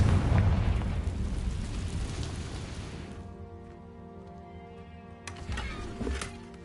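Confringo blast spell in Hogwarts Legacy: a loud rumbling explosion that decays over a few seconds into a quieter tonal game background, followed by a smaller burst near the end.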